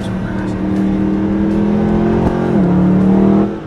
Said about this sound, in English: that's got to be the sensational engine and exhaust note. Floor the go pedal and it sounds like God gargling